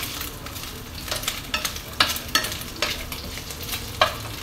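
Fresh noodles for mee goreng sizzle and hiss as they sauté in a hot pan, with rhythmic scraping and tossing strokes from a spatula, close and steady.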